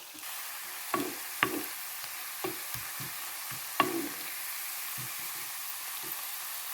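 Cut beetroot fries in a pan with a steady soft sizzle, broken by several brief louder crackles and stirring scrapes, close and fairly quiet.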